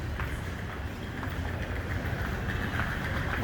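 An idling train engine at an empty station boarding area, a steady low diesel rumble with a constant mechanical hum and faint background clatter, heard alone without talk.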